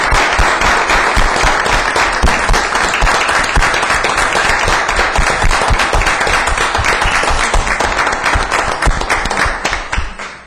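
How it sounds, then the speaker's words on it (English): Loud, continuous applause from a room of attendees at a township public safety and affairs meeting, with dense clapping holding for about ten seconds before tapering off at the end. "I think that deserves a round of applause."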